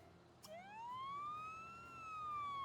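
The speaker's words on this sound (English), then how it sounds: "I turned on the siren." A fire truck siren in The Sims 3 swells in a single long rising-and-falling wail over a low background rumble, loud and steady with no talking.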